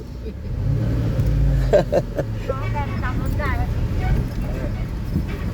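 A car pulls out at Ing Kaeng farm in Kaeng Krachan, a low engine rumble swelling nearby as it drives off, heard under people talking.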